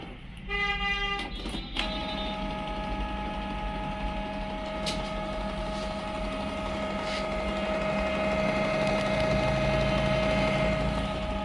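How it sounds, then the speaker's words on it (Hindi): A Canon G2010 inkjet printer runs an ink flush with a steady mechanical hum and whir, preceded by a few short electronic beeps at the start. "अभी प्रिंटर हमारा वर्क कर रहा है।"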